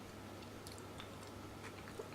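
Quiet, close-up crunching as a Brazilian Starfish chilli is chewed, a few soft bites spread over a faint steady hum.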